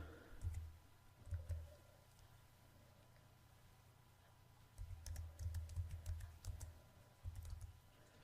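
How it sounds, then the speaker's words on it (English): Someone types a site name on a computer keyboard. Quiet, close key clicks come in short bursts separated by brief pauses, with a low thump under each burst. "So I'm going to type in AFR"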